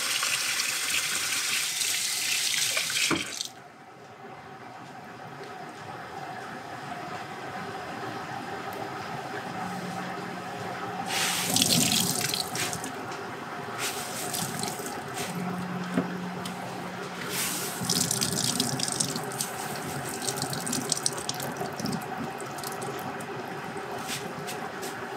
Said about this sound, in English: I have my potatoes rinsed